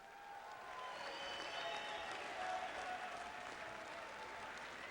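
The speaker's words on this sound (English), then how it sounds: "But first, a round of applause for the fighters." Arena crowd applauding the two fighters after ten rounds of boxing, a steady wash of clapping and crowd noise that swells slightly midway and holds, fairly distant and moderately faint.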